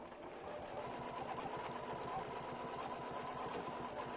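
A sewing machine stitching a quilt block, a steady fast mechanical whir with a rapid needle rhythm, quiet and close, with no voices.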